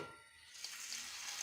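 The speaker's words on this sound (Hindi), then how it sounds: "कढ़ाई में हमने ऑयल डाल के गरम कर लिया है। अब हम इसमें फ्राई कर रहे हैं।" Fish frying in hot oil in a kadai for a Lahori restaurant-style crispy fish fry, a soft, steady sizzle that swells after a quiet start, with faint pops and crackles, close and alone.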